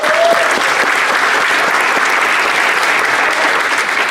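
Audience applause at a senior awards ceremony: a loud, dense, even wash of many hands clapping, sustained without break and with no talking over it.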